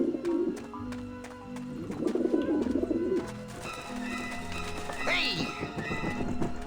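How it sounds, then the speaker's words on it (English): Pigeons coo on a skyscraper roof in the video game Grim Fandango, several soft, throaty coos repeating over a quiet ambient background, with a bright chirp near the end and a voice speaking over part of it. "There's lots of pigeons there."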